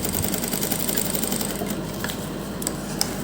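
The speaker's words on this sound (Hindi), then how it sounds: "इसके ऊपर भी हम सिलाई लगा देंगे" A sewing machine runs steadily, stitching a fabric strip laid crosswise onto a neck design. The even mechanical whir is close and continuous, with a few light clicks near the end and no talking.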